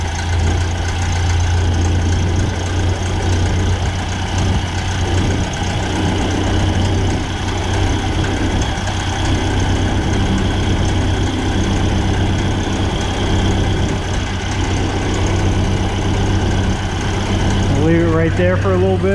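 A Ford Model A barn-find engine idles steadily after a carburetor adjustment, a loud continuous low rumble filling the whole stretch, with someone talking over it.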